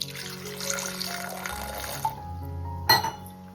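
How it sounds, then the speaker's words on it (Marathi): Water pours into a pressure cooker holding jackfruit seeds, a steady splashing stream that stops partway through, followed by a brief metallic knock. "आणि थोडं पाणी टाकू"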